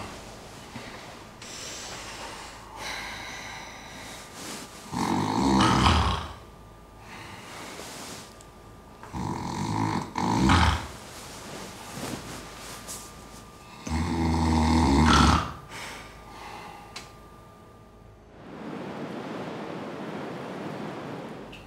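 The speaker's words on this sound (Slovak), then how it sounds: "ale chrápe ako astmatický hroch" A man snores loudly in long, rasping breaths at close range, roughly every five seconds, each swelling then fading, with a steady noisy background between and a burst of hiss at the end.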